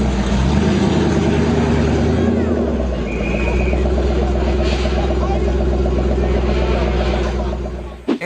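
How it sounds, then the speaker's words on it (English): Citroen GT rolling out at the Goodwood Festival of Speed, its engine a loud, steady low hum with a rise in pitch around the middle, under a busy crowd and voices. "It is the Citroen GT, and this one is, I believe, came from the Goodwood Festival of Speed, and it was just sort of rolling out"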